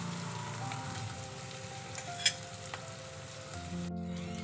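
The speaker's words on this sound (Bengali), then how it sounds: "এবার এর মধ্যে টোফুগুলোকে আস্তে আস্তে মিশিয়ে দিচ্ছি" Tofu cooking in a pan after a pinch of salt, giving a soft continuous sizzle with faint stirring scrapes and one brief sharp clink partway through, quiet and without speech.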